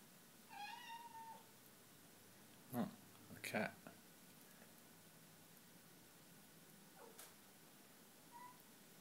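A cat meows faintly a few times indoors, with soft calls at the start and end, separated by a couple of louder knocks and a quiet hiss.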